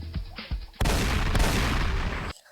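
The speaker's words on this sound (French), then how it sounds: "c'est une arme rare qui fait peur quand il tire" A pump-action shotgun fires in a video game: a single loud, booming blast holds for about a second and a half before cutting off abruptly, after a few softer clicks and thumps.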